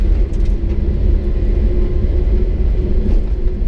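A Japanese mini truck rolls along a trail at about 30 km/h, its small engine giving a steady low, quiet rumble that stays even and continuous throughout.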